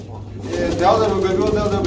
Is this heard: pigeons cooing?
yes